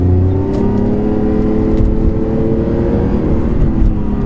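A modified Lamborghini Aventador accelerating hard, its engine droning loud and close with rising layered harmonics and steady road roar throughout, no voices.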